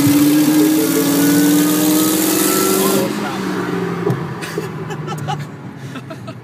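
A 2011 Chevy Cruze ECO in second gear races a supercharged 2004 Pontiac GTO in fourth. A loud, close engine roar climbs in pitch, then drops to a lower, fading drone as the cars pull away, with voices and a chuckle over it.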